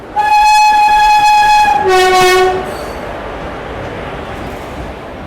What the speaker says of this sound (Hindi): चलिए WAP 4 के साथ अपनी गाड़ी फ़िलहाल प्लेटफॉर्म में एंट्री ले रही है फाइनली